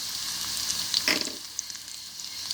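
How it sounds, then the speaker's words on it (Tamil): Onion and green chilli sautéing in hot oil, a steady close sizzle with one brief louder stir or scrape partway through, no voices. "அதை நம்ம இதில் போட்டு வதக்கிக்கலாம்"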